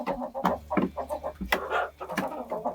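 A Livny breed hen clucks in a series of short, irregular calls at close range, with quiet farmyard background and no talking.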